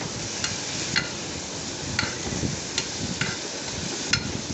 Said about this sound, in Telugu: రసంలోకి గార్లిక్ అది వెల్లుల్లి వేగిన తర్వాత టొమాటో వేసుకున్నాను. టొమాటో కొద్దిగా వేగనిద్దాం.